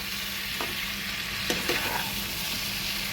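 Patol chingri, pointed gourd with prawns, stir-frying with spices in a pan, giving a steady close sizzle with a few scraping stirs of the spatula.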